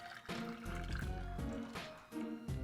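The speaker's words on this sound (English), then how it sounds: "And then we just pour the cocktail." Liquid pours steadily from a mixing vessel into a glass as a Halloween cocktail is served. The stream gurgles and splashes in a few pulses at moderate loudness, with no speech.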